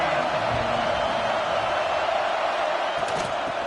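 Stadium crowd noise in an American football video game: a steady, moderately quiet roar of a large crowd with faint cheering and a brief swell near the end.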